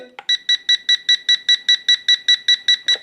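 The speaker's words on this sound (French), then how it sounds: "vous avez entendu un bip lent" A rapid, steady series of bright electronic beeps from a LOOLINN U61 drone remote controller, about a dozen evenly spaced, loud and close with no other sound.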